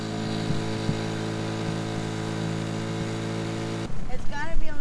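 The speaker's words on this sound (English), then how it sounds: "Ah, gotta love our little engine." A small outboard boat engine runs with a steady droning hum and a few sputters as it struggles to idle, then cuts off abruptly and people start talking.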